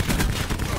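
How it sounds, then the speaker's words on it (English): Rapid video-game gunfire shooting down a UAV scorestreak, loud and dense bursts over a brief moment, no clear speech. "Oh, someone's shooting it. Yeah, someone's shooting down my score streak. I can hear it."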